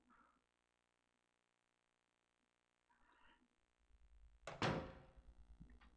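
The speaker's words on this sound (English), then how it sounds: "but I went through a door." A door in the video game Silent Hill 3 heard faintly at first with small creaks and rustles, then a loud heavy thud as it swings through, followed by a low rumbling tail.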